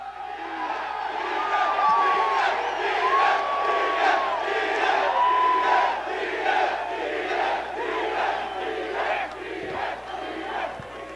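A large crowd at a UFC 263 press conference cheers, whoops and shouts continuously at close range, loud and sustained, with voices rising and falling throughout.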